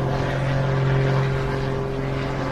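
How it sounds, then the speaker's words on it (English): An aircraft hovering with smoke trailing behind it at the Jersey International Air Display, heard as a steady, humming engine drone that stays level and fairly loud for the whole stretch. "By the sound of it, he's hovering again, though we can't actually see."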